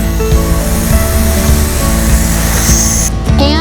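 Loud, continuous hiss of a hose-end fan sprayer misting mosquito repellent over a yard and shrubs, steady throughout, close up with a faint mechanical drone underneath.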